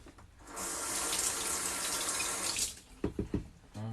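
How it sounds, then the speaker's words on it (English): A spoon rinsed under a running kitchen tap: a steady two-second gush of water, then the flow stops and a few short knocks and drips follow, close and fairly quiet. "I'll quickly wash the spoon."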